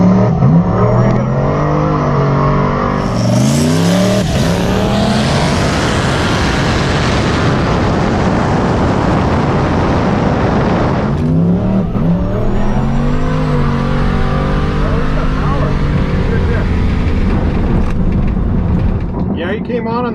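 A Tesla Plaid and an E85 Hellcat drag race: a loud, close engine roar rises through revving gear changes and sustained acceleration, with a voice talking over it and the noise dropping off near the end.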